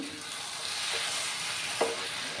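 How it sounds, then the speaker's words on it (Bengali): Cabbage and potato curry for dum aloo being stirred in a pan, a steady close sizzle with a brief scrape of the spoon near the end. "আবার একটু নাড়াচাড়া করে নিলাম"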